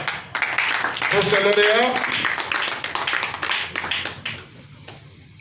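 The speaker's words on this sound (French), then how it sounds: "on va applaudir très très fort pour" A crowd claps for a prize winner at a cleanliness awards evening in Fada N'gourma, with steady dense applause under a loud announcer's voice, fading near the end.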